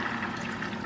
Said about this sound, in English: you just add some water and let it stew